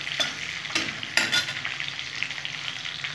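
Bottle gourd sizzles in hot oil with spices and fish head in a pan, and is stirred with a few scraping strokes over the steady frying hiss.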